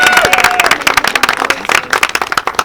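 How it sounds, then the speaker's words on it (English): An outdoor audience at a groundbreaking ceremony for a new middle school claps and cheers, close, sharp, irregular hand claps with some whoops, lasting a few seconds and starting to thin toward the end. "you can clap and cheer."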